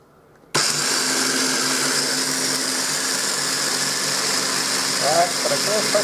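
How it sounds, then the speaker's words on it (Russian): A countertop blender grinds pumpkin and zucchini seeds for a drink, starting abruptly with a loud, steady motor whine and rattle that runs unbroken to the end, with a faint voice briefly audible over it near the finish. "Теперь закрываю крышечкой блендер и запускаю процесс."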